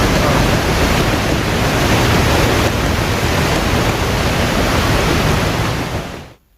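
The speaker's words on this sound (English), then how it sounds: "Just listen to the waterfalls and the water fountains." Waterfalls and water fountains at the Dubai airport exit produce a continuous, loud rush of splashing water, steady and close throughout, until the sound drops off sharply at the end.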